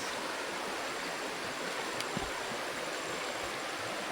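Water from a mountain stream on the west coast near Puerto Princesa rushes steadily along, a constant hissing and burbling flow with no voices.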